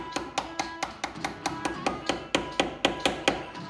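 Repeated sharp taps and clicks from two screwdrivers prying a part loose on a Jeep Grand Cherokee during ABS and traction control repair, about a dozen close, evenly spaced knocks.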